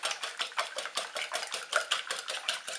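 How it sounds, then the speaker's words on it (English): Rapid, steady strokes of a whisk beating eggs in a bowl, a regular quick rhythm of soft clicks and scrapes, close and fairly quiet, with no talking. "we're going to go ahead and whisk the eggs"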